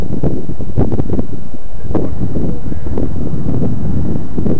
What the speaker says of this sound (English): Trying to fight that wind.